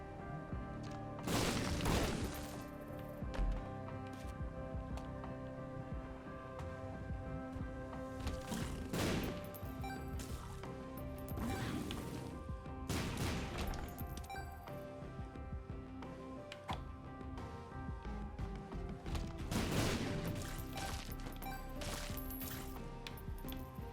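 Explosions in The Binding of Isaac boom out at intervals of several seconds, each a loud broadband blast rising above a constant bed of game music and effects.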